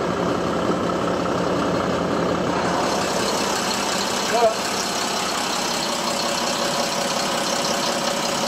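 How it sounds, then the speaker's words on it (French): An inline six-cylinder diesel bus engine idles steadily up close with a low, even rumble, while someone talks over it. "Là, on a le moteur, c'est un 6 cylindres en ligne."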